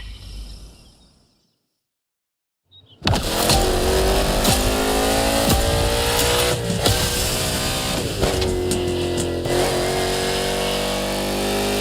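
Vintage NASCAR stock car engine in The Crew Motorfest racing game, revving loud and close after a brief quiet start, a sustained roaring drone with sharp throttle blips and gear-shift surges throughout.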